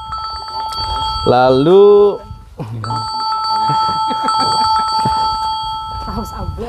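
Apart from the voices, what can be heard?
telephone ringing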